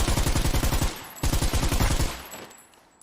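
Rapid automatic gunfire in a survival shooter game, two loud sustained bursts with a brief pause between them, then a fading echo and tail.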